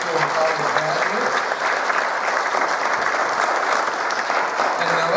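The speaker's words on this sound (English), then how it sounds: "Let's give a round of applause for our high school and college graduates." Steady applause fills a church as the congregation claps for high school and college graduates, a dense continuous wash of many hands at even loudness throughout, with faint voices mixed in.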